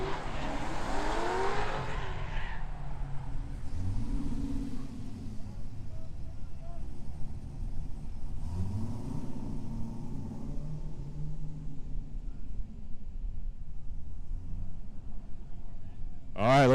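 Corvette and BMW drift cars race in a drift battle competition, engines droning and surging with rising and falling revs, tire noise mixed in, under steady commentary; a brief sharp burst closes the passage.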